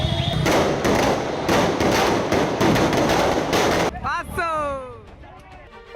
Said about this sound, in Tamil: நாட்டு வெடி பாரு.